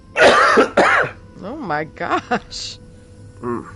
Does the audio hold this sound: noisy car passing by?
no